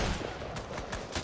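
Fortnite gunfire in a brief, fairly quiet burst of several rapid shots set against a busy game soundscape, no voices present.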